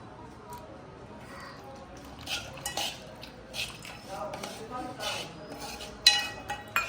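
A spoon stirs milk into finely crushed biscuits in a metal pot for a biscuit chocolate cake, with soft scraping and scattered sharp clinks against the pot that grow louder near the end.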